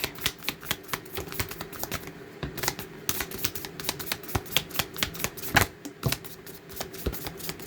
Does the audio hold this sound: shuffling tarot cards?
yes